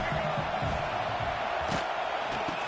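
A large stadium crowd at a college football game roars in a dense, sustained wall of cheering and shouting, loud and continuous, with a brief thump partway through and no clear commentary on top.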